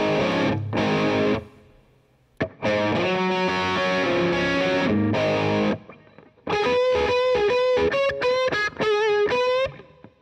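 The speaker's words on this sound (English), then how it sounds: "So you crank the distortion up a little bit to 4, and then you get a bridge pickup that sounds like this" Heavily distorted electric guitar through a modded Boss DS-1 pedal, distortion at 4, with a bright, biting bridge-pickup tone, playing loud sustained chords and then choppy riffs with brief pauses between phrases.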